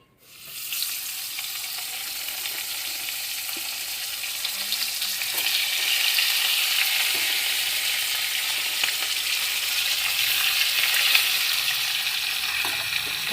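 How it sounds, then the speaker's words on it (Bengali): Fish fry in hot oil in a pan, giving a steady close broadband sizzle with scattered crackles that swells slightly partway through and continues without talk. "তো এই যে আমার মাছগুলো ভাজা হয়ে গেছে"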